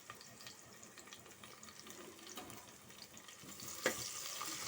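Large onions chopped small sizzle in hot oil with curry leaves in a pan for mutton kuzhambu, a soft, steady frying hiss with faint stirring and one brief clatter near the end.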